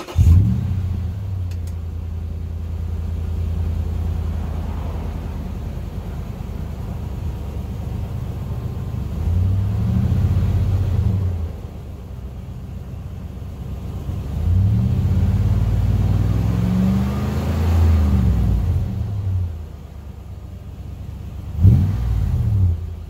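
Toyota GX470 with a 4.7L V8 and a MagnaFlow cat-back exhaust revving to about 3,000 rpm, with a deep rumbling idle between several rising revs and a sharp blip near the end.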